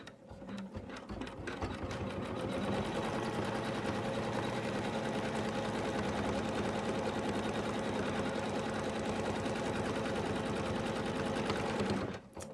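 An embroidery machine stitches a face fabric piece onto an in-the-hoop Santa bib, a steady, loud, dense mechanical whir with rapid needle pulses running continuously for about ten seconds before stopping abruptly.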